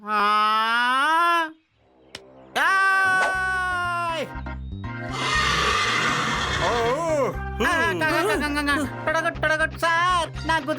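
A cartoon horse gives a loud, high whinny that trails off, followed by more shrill neighing and playful whinnies mixed with music and effects in a children's animated show.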